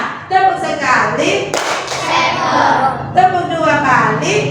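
Students in a classroom clap in unison once during a repeated warm-up clapping drill, a crisp group clap standing out briefly amid continuous classroom speech.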